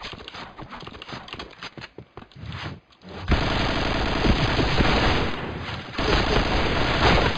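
Rapid bursts of gunfire from the shooting game Point Blank, first choppy and uneven, then a dense continuous barrage of shots that swells loud and steady toward the end.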